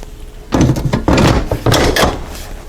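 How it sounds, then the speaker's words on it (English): A pressure lid goes onto a Ninja Foodi cooker in a run of loud, close clunks and scrapes, three or four hard knocks in under two seconds as the lid is set down and twisted into place, with no speech. "All right, let's put our pressure lid on."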